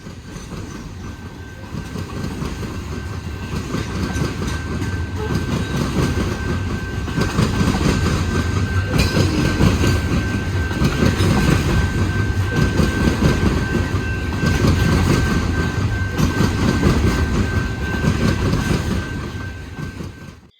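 A Chesapeake and Ohio coal train rolls past with a steady, loud rumble and clattering wheels on rails, a thin high squeal running throughout, sustained and close.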